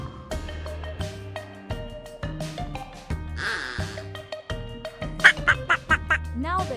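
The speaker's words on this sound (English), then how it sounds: "Ducks love to paddle in ponds and are known for their cheerful quacking." Ducks quack as a sound effect over bouncy background music, with a quick burst of several quacks toward the end.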